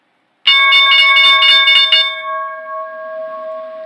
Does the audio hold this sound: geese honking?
no